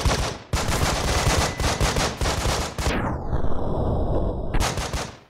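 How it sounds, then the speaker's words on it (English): A flashbang grenade in the tactical game Breach & Clear going off amid dense gunfire, with a loud sustained blast of noise and then a high ringing tone that hangs for over a second before the shooting resumes. "Flashbang out!"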